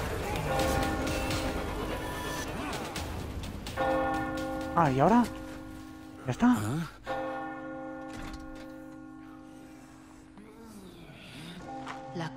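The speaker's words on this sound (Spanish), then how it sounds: "La campana. O sea, que unas campanas me salvan." Church bells toll in the video game Resident Evil 4 Remake, repeated ringing strikes with long sustained tones, heard over background game noise while someone speaks briefly.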